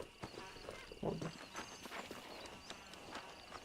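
Horse hooves clip-clopping in the video game Red Dead Redemption, a faint, steady run of hoofbeats over soft game ambience, with no talking.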